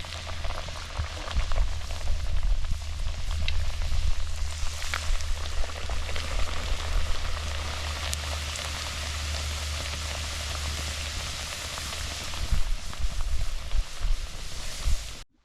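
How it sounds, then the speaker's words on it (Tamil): Thattu vadai dough sizzles and crackles as it deep-fries in hot oil, a dense continuous hiss with scattered pops, close and steady, over a low background hum. "இதை எடுத்து எண்ணெய்க்குள்ளே போட்டால் அப்படியே பொறிஞ்சு வரும்"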